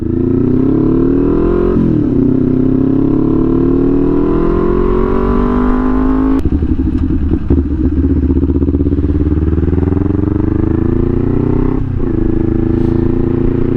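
A Kawasaki Ninja 400 motorcycle at full throttle roars loudly and close, its engine pitch climbing steadily through the gears with brief dips at each shift and a constant rush of wind.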